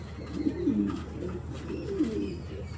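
Pigeons at home beside their newly hatched chicks, giving soft, low, repeated cooing phrases, close and fairly quiet, with faint background hiss and no talking.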